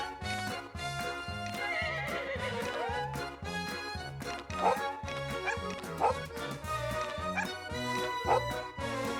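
A husky barks in the farming game Story of Seasons, several yips and barks spaced over steady background game music.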